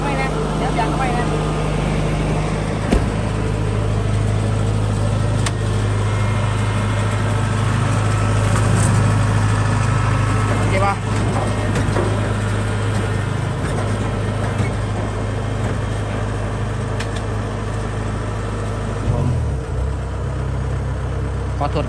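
A large harvesting machine's engine drones loud and steady throughout, a deep continuous rumble with a voice speaking over it at times.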